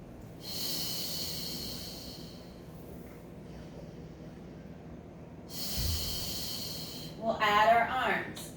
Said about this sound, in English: Exhale to lift.